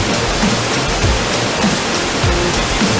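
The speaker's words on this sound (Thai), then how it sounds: "เสียงทะเล" Broad, steady rushing noise of surf washing in, in a video game, loud and continuous with faint low swells beneath, like waves heard close up.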